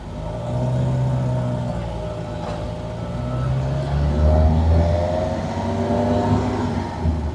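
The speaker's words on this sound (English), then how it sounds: "So push the clutch down, across the H, and down into first gear." A manual car's engine runs steadily and rises as it pulls away in first gear after the clutch is engaged, a continuous close rumble with no talk.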